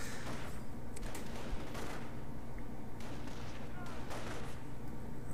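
Rifle squads fire in a strategy video game, dense overlapping gunfire popping continuously over a loud battle wash, with a voice talking over it.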